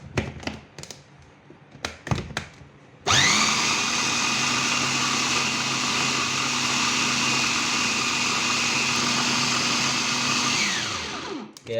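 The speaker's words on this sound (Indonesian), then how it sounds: "Kita blend lagi." A blender whirs steadily for about nine seconds, blending a chicken meat mixture with added liquid for fried meatballs, preceded by a few taps and clunks as it is set up, then winding down at the end.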